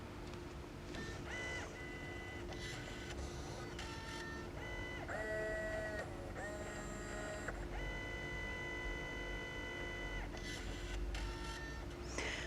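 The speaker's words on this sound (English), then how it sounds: "because you're printing two labels simultaneously, it won't cut it" A label printer runs continuously, printing two labels at once with steady mechanical whirring and intermittent higher-pitched motor tones through the whole stretch, fairly close, with no talking.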